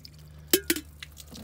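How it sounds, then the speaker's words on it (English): Water is poured onto a 3D Mats Kagu rubber floor mat inside a truck, giving a couple of quick, close splashes and a few light drips against a quiet background. "pour a little spot of water on there"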